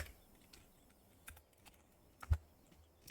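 Sparse, faint clicks of a computer keyboard, a few scattered keystrokes in a quiet room with no speech over them, the loudest tap landing near the end.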